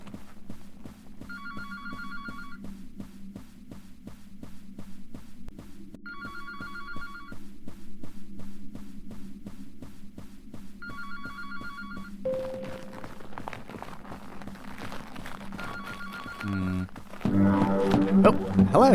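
A telephone rings in repeated bursts inside the horror game Anthology of the Killer, each ring a bright trill separated by pauses. The rings sit over a low steady drone and a ticking pulse, with louder noise near the end.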